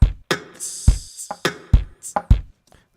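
A drum beat pattern assembled from hand-beat and beatbox samples: punchy low kick-like thumps alternate with snappier, brighter snare hits in a steady rhythmic loop, close and dry, with no talking.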